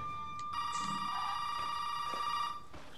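A telephone rings inside Resident Evil 7, a steady, bright electronic ring lasting about two seconds before cutting off, heard alone at moderate loudness.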